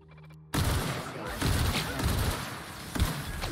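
Corrosion weapon fire in The Outer Worlds during a fight with robots, several loud bursts of shots arriving abruptly after a quiet tone, with a spoken voice mixed in.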